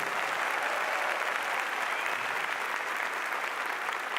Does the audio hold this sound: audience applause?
yes